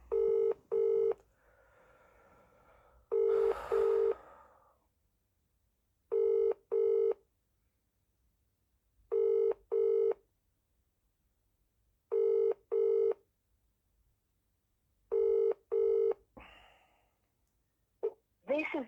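An outgoing mobile call rings before reaching voicemail: evenly spaced double ring tones repeat about five times over nineteen seconds, with faint breathing and a sigh in the gaps.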